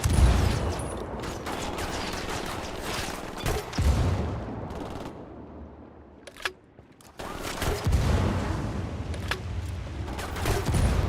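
Rapid, loud gunfire from Ghost Recon Wildlands rattles in dense overlapping bursts, briefly thinning to a lull midway before the heavy shooting resumes.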